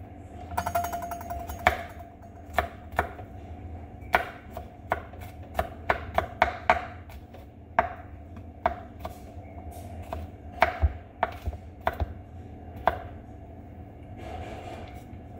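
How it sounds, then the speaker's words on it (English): A knife chops garlic on a cutting board in a home kitchen while Spanish-style lemon jasmine rice is made, sharp irregular knocks in short bursts over a quiet steady hum, close and clear. "Then we're going to come and chop our garlic."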